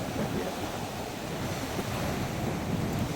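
Rough sea churns against the coast at Jaffna in a steady, dense roar of breaking surf, blended with wind rush across the microphone and no voices.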